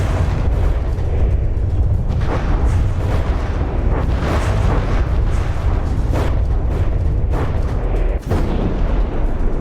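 Heavy explosions from naval combat in the game From the Depths, a dense, continuous rumble of booming blasts at close range with bursts piling up throughout.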